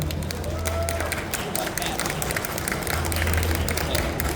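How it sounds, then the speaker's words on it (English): Audience applause at a Kaiju No. 8 voice actor panel, a dense, steady wash of many hands clapping throughout, fairly close and full, with crowd noise and some voices underneath. "Round of applause, that's amazing."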